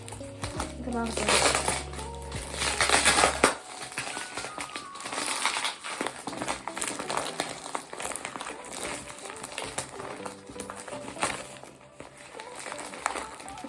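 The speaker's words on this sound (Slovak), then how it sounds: "To je zabalené v vianočnom papieri." Christmas wrapping paper crinkles and rustles as a gift is unwrapped, with a louder burst of tearing near the start and steady handling noise throughout while a person talks nearby.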